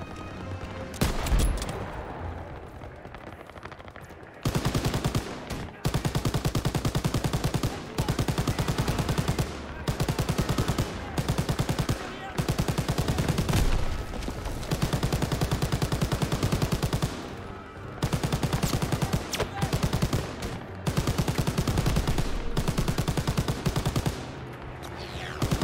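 Heavy rifle and machine-gun fire in the World War II shooter Call of Duty WW2 during an ambush mission, loud near bursts that rattle almost continuously with brief gaps between volleys.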